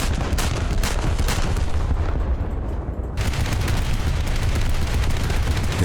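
Naval 20mm and 40mm anti-aircraft guns in War Thunder pour out dense, continuous rapid fire, overlapping bursts and thuds hammering without pause, loud and close.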